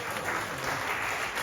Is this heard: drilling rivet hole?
no